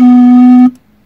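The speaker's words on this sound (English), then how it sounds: "this is the sample tone" A single sustained synthesizer tone, loud and steady with a buzzy harmonic edge, cutting off abruptly after about two thirds of a second.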